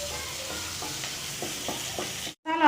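Capsicum strips are stirred through a sizzling kadai paneer base in a frying pan, a steady close hiss with repeated soft scrapes before the sound cuts briefly and then resumes.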